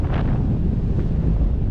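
Strong, storm-like wind at sea on a trip from Mindoro to Navotas, roaring steadily and buffeting the microphone in a dense, continuous rumble throughout.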